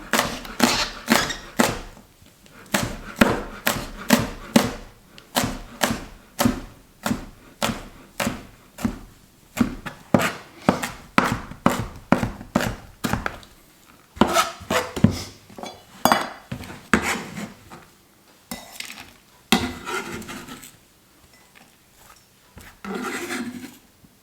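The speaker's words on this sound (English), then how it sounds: "we only have to roughly chop this stuff" Chillies are roughly chopped with a knife on a wooden board, a fast run of sharp, close knocks in a steady rhythm that pauses briefly and then resumes in looser, uneven bursts, with no talk.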